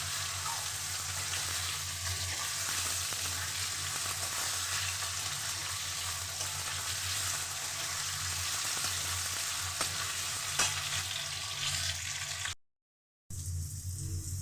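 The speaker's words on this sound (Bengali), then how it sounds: "আলুটাকে লাল করে ভেজে নিয়ে তারপরে আমি এতে পেঁয়াজগুলো দিয়ে দেবো।" Potato pieces fry in hot oil in a pan until reddened, a steady close sizzle that holds evenly throughout before a brief cut near the end, with no talking.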